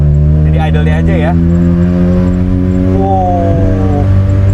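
A Mazda RX-7 LBWK with a rotary engine idles up close, a loud, steady, droning hum with a faint voice over it, while rain starts in Bandung.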